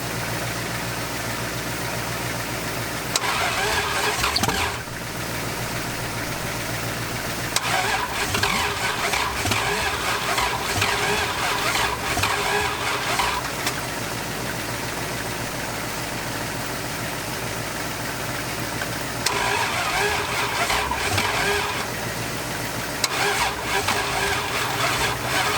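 A seized, crushed Dodge Charger engine cranks over and over, struggling to fire, its steady mechanical churn running in long bursts with brief pauses between attempts.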